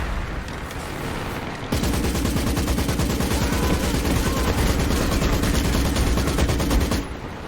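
Dense, sustained gunfire from massed rifles and machine guns erupts in a Company of Heroes 2 Soviet campaign cutscene at Stalingrad, loud and continuous for several seconds before easing off.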